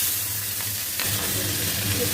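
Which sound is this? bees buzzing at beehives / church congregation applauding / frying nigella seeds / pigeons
frying nigella seeds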